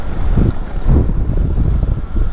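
Strong, steady wind buffeting loudly with deep rumbling gusts by Lago Carrera on the Ruta Austral, close and continuous, no voices.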